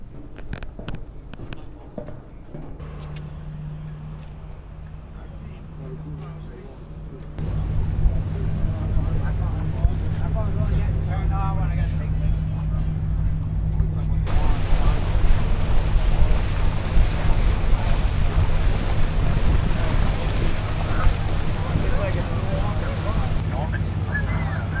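A fishing boat motors out to sea after bluefish, with engine drone rising and wind buffeting the microphone as speed picks up, then a steady loud rush of wind, water and motor.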